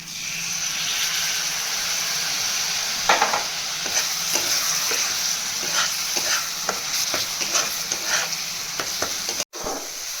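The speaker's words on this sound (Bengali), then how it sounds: "গ্যাস কমিয়ে এটাকে কষতে থাকবো।" Soaked spice paste sautéing in oil over browned onion, garlic and ginger for a yogurt katla fish curry: a loud, steady sizzle broken by repeated scraping strokes of a spoon stirring the pan.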